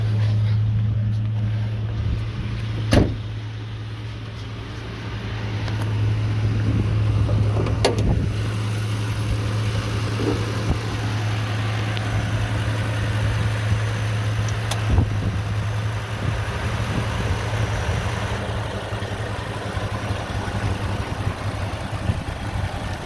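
A 2006 Ford F250 4x4 with a V10 engine idles steadily, a loud, constant low rumble that runs the whole time, with a few sharp clicks and a voice at times.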